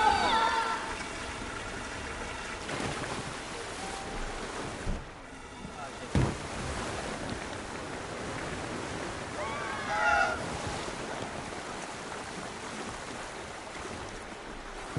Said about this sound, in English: It's like a water coaster.